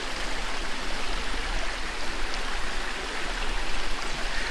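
A river flows steadily along a wilderness hiking trail, a loud, continuous broadband rush of moving water close by with no voices.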